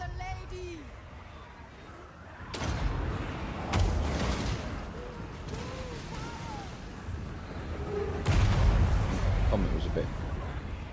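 Comet spell impacts in Total War Warhammer 2, heavy booming crashes arriving in a few loud bursts over a rumbling battle din of distant combat and crowd noise.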